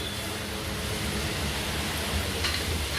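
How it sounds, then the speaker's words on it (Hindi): Heavy rain falls steadily, a dense, even hiss of drops hitting surfaces that holds at the same level throughout, close and continuous with no voices. "बहुत तेज बारिश हो रही है"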